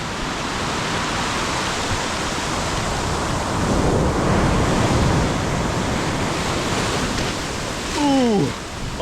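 Large ocean waves crash and surge on a beach with a strong current, a dense continuous roar that swells toward the middle, loud and close, with brief wind buffeting near the end.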